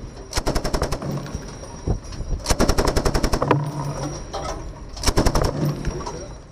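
A heavy machine gun fires in three rapid bursts, sharp loud rattling reports in quick succession separated by short pauses, with birds cooing faintly in the background.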